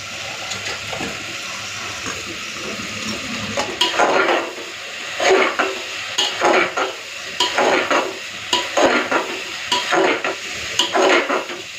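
Potato, papaya and soybean chunks stir-fried in spices, with repeated rhythmic scraping strokes of a spatula against the pan over a low sizzle, close and loud, no talking.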